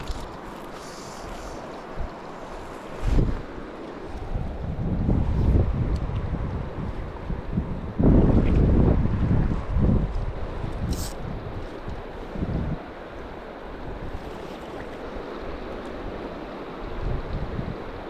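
Gusty wind buffets the microphone on a river during fly fishing, with a steady rushing roar that surges in several louder bursts, no talking.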